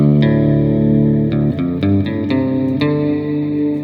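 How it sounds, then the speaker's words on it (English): Guitar chords through a headphone amp's reverb effect on a clean amp setting, ringing out with a lush, spacious reverb tail, each strum blooming and lingering over the next, played alone. "I hear a very lush and very nice reverb happening there"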